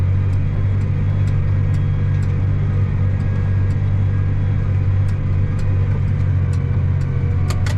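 An engine runs steadily in 11th gear while driving across a freshly planted rye field, giving a loud, constant low rumble with faint rattles and clicks throughout.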